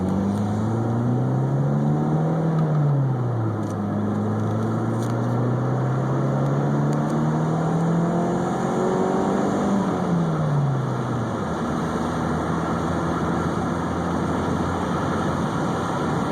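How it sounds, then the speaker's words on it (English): A Toyota with a manual transmission revs up and back down through the gears, its engine drone rising and falling steadily and close, then settling to a rough idle. "So we'll let her rev a little bit."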